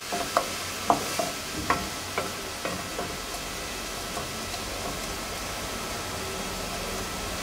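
Ginger and garlic, added with onion, sizzle softly in a pan for a Mauritian curry, a steady faint frying hiss broken early on by a few light clicks and scrapes of stirring.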